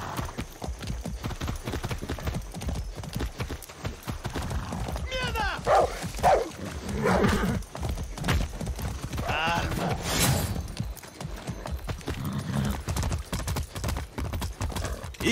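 Horse hooves clip-clop steadily in a Far Cry 6 game scene, close and continuous throughout, mixed with in-game speech, a brief whinny and background ambience.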